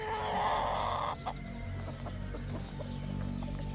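Black kelso gamefowl chickens clucking on a farm, a few soft clucks and calls heard close amid steady background noise, with a brief louder crowing-like call at the start.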